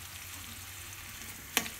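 Onions and ginger garlic paste fry in a pan for railpalaram, a soft steady sizzle with one sharp brief crackle near the end; no voices.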